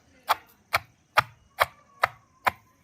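Coarsely chopped raw cucumber for an Andhra-style chutney pounded in a stone mortar, seven sharp evenly spaced thuds about half a second apart, close and distinct.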